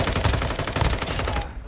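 Bursts of rapid automatic gunfire come from a military shooter video game, a dense, loud fusillade of overlapping shots lasting over a second and then cutting off sharply.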